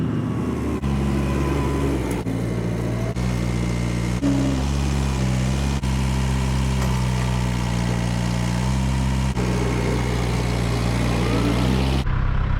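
A tractor engine runs steadily on a homestead during hay harvest, with a low, continuous idling drone and small shifts in pitch, loud and close throughout with no talking.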